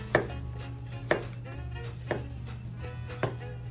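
A knife slices through apples for an apple pie in a home kitchen, giving four distinct cutting thuds on a board at roughly one-second intervals over a steady low background hum.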